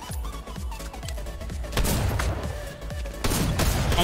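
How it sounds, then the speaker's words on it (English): Repeated pistol shots in the Fortnite video game during the Futurama update, several sharp cracks in irregular succession followed by louder bursts of in-game gunfire and booms. "I want to finish him off with the pistol"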